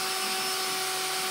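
Drill bit slowly carving out a spot weld on a vehicle's frame rails, a steady close whirring drone with a high whine, loud and continuous, no talking.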